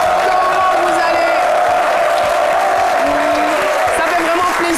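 A studio audience on a French midday TV show claps and cheers for a returning guest, dense loud applause with whoops running throughout, a steady tone sounding over the crowd.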